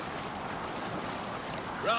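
A boat sails across the open sea in Assassin's Creed Valhalla, with a steady wash of water and wind throughout and a brief voice breaking in near the end.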